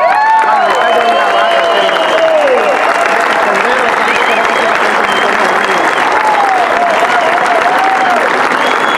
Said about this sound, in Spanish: yo quiero un gran aplauso para este gran elenco de artistas y músicos